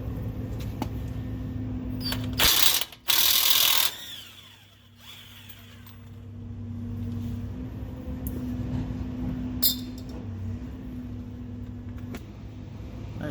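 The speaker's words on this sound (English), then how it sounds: "So we're going to be using a 35mm socket" A ratchet with a 35mm socket works on the front axle of a 2005 Toyota Tundra 4WD. It gives one short, loud mechanical burst over a steady background hum, and the rest of the clip is quiet.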